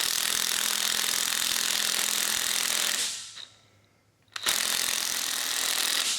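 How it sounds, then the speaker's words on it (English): Impact driver fitted with an 18mm socket tightening a bolt on a Ford 5.4L 3V engine, loud continuous rattling hammer bursts that stop briefly and then resume at full strength. "Grab my impact driver with a 18mm socket."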